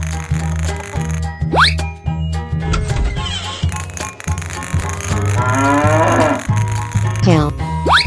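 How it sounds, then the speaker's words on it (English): Cow mooing in a 3D animal slide game, a few close lowing calls over busy game sounds and effects, with a brief voice in the background. "Cow."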